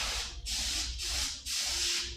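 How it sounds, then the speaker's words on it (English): Airbrush or spray gun hissing in three long bursts with short pauses between, spraying paint onto the nose of a mule deer shoulder mount in taxidermy; close, steady and broadband. "And then I'm going to angle spray the surface of the nose."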